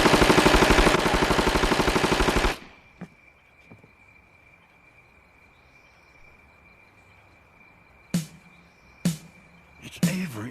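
Gunfire in a comedy film about the Bohemian Grove: after a long burst of rapid fire, a quiet stretch follows, then three sharp separate shots ring out near the end.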